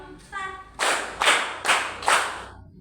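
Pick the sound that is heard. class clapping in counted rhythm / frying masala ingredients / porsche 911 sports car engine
class clapping in counted rhythm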